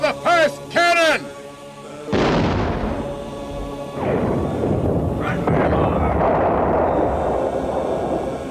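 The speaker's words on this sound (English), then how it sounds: "Cannons!" During a film battle at the 1453 conquest of Constantinople, a man calls out briefly, then cannons fire two heavy booms about two seconds apart, each followed by long rumbling, crackling roar.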